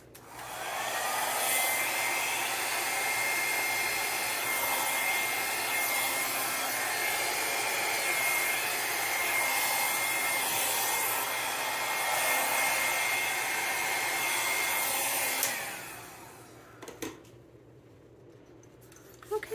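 A hair dryer blows steadily on wet paint on a flamingo craft project, a continuous close whir lasting about fifteen seconds before cutting off, followed by a few faint handling knocks.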